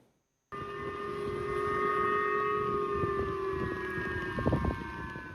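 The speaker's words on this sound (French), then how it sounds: "Sirène d'alarme activée et appel aux habitants à s'abriter." A civil defense alarm siren calling residents to shelter: a long, steady wailing siren with a sustained tone, loud and continuous, with some rumbling background noise.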